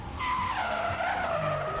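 Race cars drift into the infield on a 3/8-mile track, tires skidding in a loud, continuous screech layered over roaring engines, steady and close for the whole stretch, with no talk.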